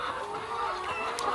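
Hens cluck steadily and close by in a poultry setting, a continuous nasal murmur of calls with no speech.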